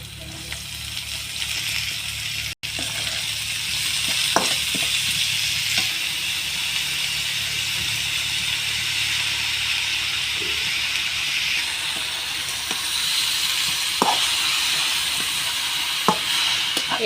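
Kalai greens, the leaves of the grass pea, go into a pan of hot oil after browned ingredients, and a steady broad sizzle and hiss follows with occasional clicks from stirring, close and continuous throughout.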